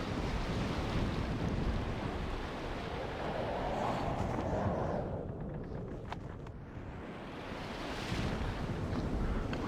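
Ship under sail in Sid Meier's Pirates!, a steady loud rush of ocean waves and wind filling the whole stretch, with brief faint knocks partway through and no voices.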